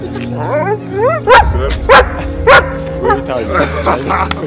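A couple's dog barks in several loud, sharp bursts at an open house, with voices talking and whimpery yips between barks.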